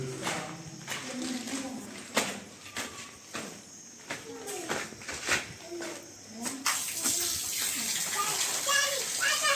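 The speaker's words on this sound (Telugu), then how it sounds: "ఒకసారి వాటర్ పోసి కూడా ఒకసారి అయితే మనం అయితే చూసేద్దాం" Water poured into a homemade bathroom drainage pipeline runs through the sanitary pipe, a rushing, splashing flow that swells into steady broadband noise in the last few seconds, with someone talking and bumps of handling nearby.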